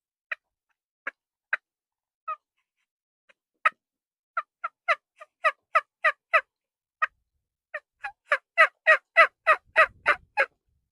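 A worn, latex-covered turkey call is blown in short, sharp yelps and clucks, sparse at first, then building into a rapid, louder run of gobble-like notes, close and alone.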